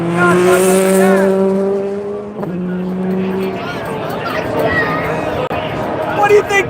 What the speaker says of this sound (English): Oh, we got a Mustang doing a burnout.